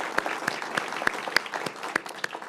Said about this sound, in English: Stand up and take a round of applause.